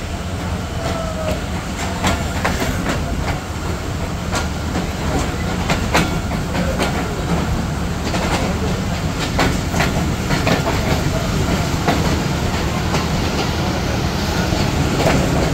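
Dhumketu Express train running on rails on a rainy day, a steady loud rumble with rhythmic clickety-clack of wheels over rail joints throughout, occasional faint squeal, no clear talk.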